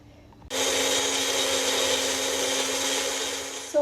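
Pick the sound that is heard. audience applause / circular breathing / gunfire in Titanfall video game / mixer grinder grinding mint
mixer grinder grinding mint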